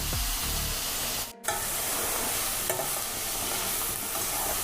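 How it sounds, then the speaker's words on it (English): Onion frying in about four tablespoons of oil in a pan for a crab curry: a steady, close, dense sizzle and hiss with a brief dropout near the start, no voices. "Let the onion take that brownish color. Okay, so you need to fry it nicely."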